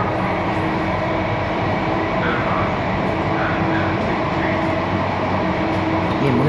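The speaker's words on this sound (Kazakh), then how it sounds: "Бұл Мумбайдың метросы достар" A Mumbai metro train carries a steady, loud rumble and hum throughout, the continuous ride noise of the carriage filling the space while faint voices murmur underneath.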